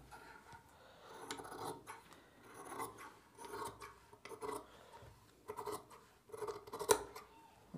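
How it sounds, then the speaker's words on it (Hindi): Scissors snipping through shirt collar fabric, a series of close, crisp cuts and rasping blade strokes at an irregular rhythm, with no talking. "काट लेना है, कॉलर अलग कर लेना है।"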